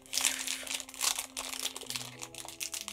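A plastic blind box bag is crinkled and torn open close up, with irregular bursts of crackling rustle that come and go over a few seconds.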